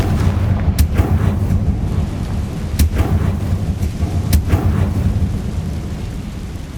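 Fiery Confringo blast spell from Hogwarts Legacy on PS5, a few sharp booming bursts cracking out over a dense rumbling game soundscape, loud and close.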